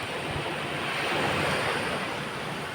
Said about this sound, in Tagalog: Oh, dito tayo sa tabing dagat.